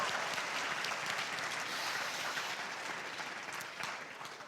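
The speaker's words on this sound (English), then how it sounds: "we're going to have one more huge round of applause" Sustained audience applause at a high school Poetry Out Loud competition, a dense, steady wash of many hands clapping that fades slightly toward the end, with no voices over it.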